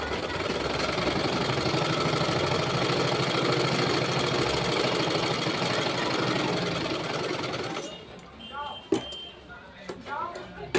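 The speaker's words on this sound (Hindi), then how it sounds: "अब हम इसमें लगाएंगे सिलाई" A sewing machine stitching a blouse runs in a steady, fast mechanical whir for most of the stretch, then stops, leaving a few faint handling clicks.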